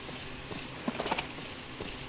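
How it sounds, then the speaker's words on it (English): Hooves clip-clop briefly from a horse in the video game Mystery Island, a short cluster of light footfalls over quiet background game ambience. "A beautiful star horse."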